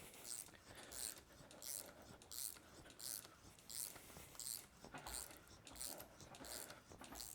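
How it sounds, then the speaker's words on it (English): An M54 aluminum engine block thread being cut with a bottoming tap through a tap bushing, giving a steady run of quiet, rhythmic ratcheting clicks close up, with soft handling noise and no speech. "this will just get our tap started"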